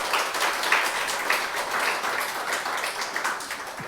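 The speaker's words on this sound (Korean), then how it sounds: "우리 하나님께 감사와 영광의 박수 올려드리겠습니다." A church congregation claps together during a Sunday worship service, a dense, steady wash of applause that holds evenly throughout with no voices standing out.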